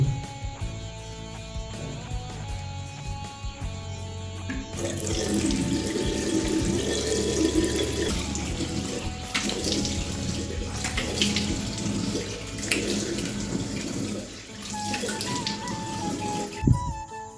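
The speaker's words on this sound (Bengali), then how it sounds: "মুখটা ওয়াশ করে নেবো তারপর বেরিয়ে পড়বো" Water runs from a tap into a sink while a face is being washed, a steady close splashing rush that swells louder partway through and cuts off near the end.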